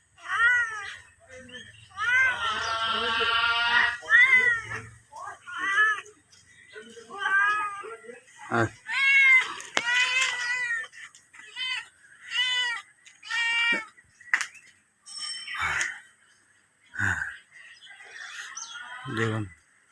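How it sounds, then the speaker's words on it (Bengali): A cat meows again and again, drawn-out and insistent while waiting for food, over about twenty seconds, mixed with people talking nearby. "বিড়ালটা খাবে বলে কিরম করছে আমাদের বিড়াল"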